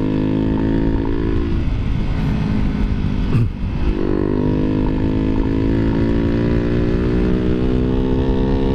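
Raider J115 Fi motorcycle with a 57mm bore, stock head and 5.6 cans, running at top speed around 110 kph: a loud, steady, sustained engine drone close up with a brief dip midway.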